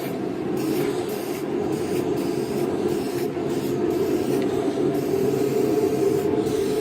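A continuous hissing spray runs steadily for several seconds, close and loud, with a few brief dips where the spraying pauses, as paint is sprayed onto a car bumper.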